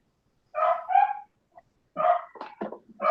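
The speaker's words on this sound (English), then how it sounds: "Whose dog is that?" A dog barks in short bursts indoors during a meeting: two quick barks, a pause, then a longer run of barks and yips, loud and close, with no talk.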